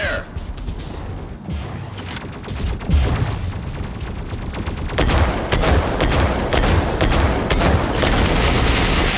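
Gunfire in the mech combat video game Mech Arena rattles almost nonstop: dense bursts of shots and mechanical clanks that grow heavier and louder over time, with game voice lines briefly mixed in.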